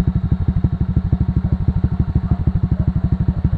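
A motorcycle with a T4S exhaust pipe idles close up with a loud, steady, rapid lumpy thump, each firing pulse distinct and even throughout.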